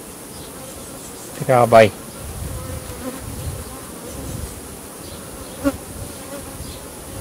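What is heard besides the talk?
honey bees buzzing at a hive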